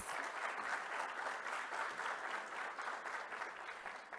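An auditorium crowd at a morning session of a Brazilian public forum claps steadily, a dense, even wash of applause filling the whole stretch without pause.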